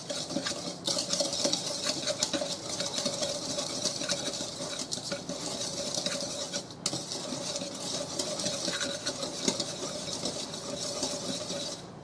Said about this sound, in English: now we're just going to give this a whisk to combine everything